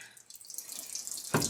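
Water gushes from a drain on an old 1962 AMC Rambler engine in a garage, starting as a faint trickle and swelling into a steady splashing stream, with a sudden louder burst of splatter near the end.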